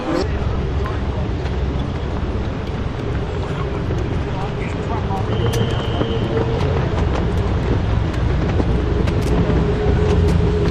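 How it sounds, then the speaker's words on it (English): Porsche 911 G-series at the Festival of Speed 2025: a steady low engine drone with wind buffeting the microphone, running under people talking throughout. "This is another Porsche. We've got the 911 G."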